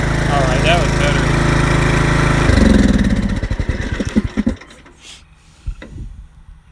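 An old Craftsman lawn mower with a reconditioned motor runs loud and steady, then is shut off, its engine pulses slowing and sputtering into quiet with a couple of last knocks.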